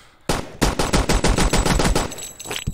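Rapid automatic gunfire from the video game Boring Man: a loud, dense burst of about a dozen close shots in quick succession, lasting roughly two seconds, with no talk.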